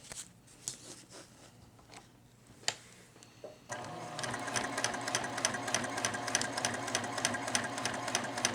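A Juki TL-2010Q semi-industrial sewing machine stitches during a tension test, starting with a few isolated clicks before settling into a steady, loud, rapid mechanical whir of repeated needle strokes.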